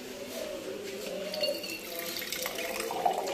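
Tap water runs steadily into a cooking pot, a continuous close splashing and filling sound, with slight kitchen noise around it.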